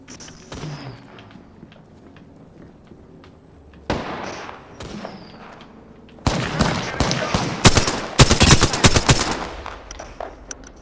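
Automatic weapon fire in the battle royale video game Apex Legends, quieter scattered shots early on, then loud dense bursts of rapid gunfire crackling through the second half.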